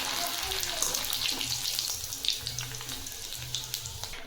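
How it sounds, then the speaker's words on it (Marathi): Maize poha frying in hot oil, added in small batches for Diwali chivda: a bright, crackling sizzle that stays loud and continuous, with a few sharper pops and faint low clatter underneath. "आता आपण यामध्ये थोडे थोडे करून मका पोहे तळून"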